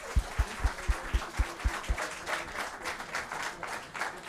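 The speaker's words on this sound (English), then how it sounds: "Let's give them a round of applause." Summit audience breaks into applause, a few distinct claps at first that swell into steady, dense clapping from a large crowd in a hall, moderately loud and with no talking over it.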